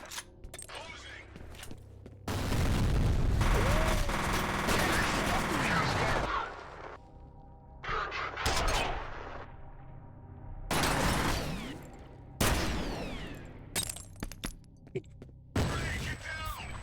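In F.E.A.R., a thrown grenade goes off with a heavy blast amid bursts of automatic gunfire, loud crashing volleys separated by quieter gaps, with voices talking between them.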